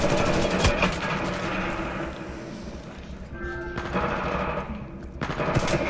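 Automatic weapon fire in the video game Titanfall 2, rapid bursts of shots rattling through much of the clip with brief lulls, mixed with game effects and faint voices.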